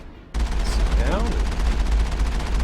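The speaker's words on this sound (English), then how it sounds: "Stop shooting my goddamn tank." Rapid sustained gunfire in the Mass Effect video game, a loud, dense burst of shots starting abruptly and continuing without pause, with a faint voice briefly heard under it.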